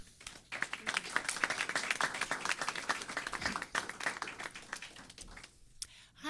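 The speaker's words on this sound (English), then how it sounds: "So a nice round of applause for Wendy Olnick." An audience at a live Earth Day event in Nevada City, California applauds warmly, a dense patter of many hands clapping for several seconds before tapering off into quiet.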